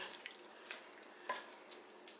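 Spicy cabbage being stirred with seasoning in a Ninja pressure cooker: a few soft scraping strokes with light sizzle, quiet and close, with no talk.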